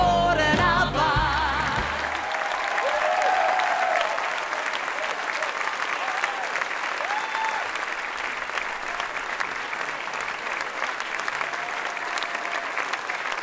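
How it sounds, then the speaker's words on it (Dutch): A theatre audience applauds at the end of a musical performance, a full, sustained clapping that continues steadily as music fades out at the start and scattered cheers rise through it. "dank u wel voor dit fantastische applaus"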